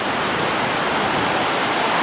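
A stream flows near a waterfall at Melkevoll Bretun campsite in Norway, a steady, loud rushing hiss of water with no breaks, close by and filling the whole scene.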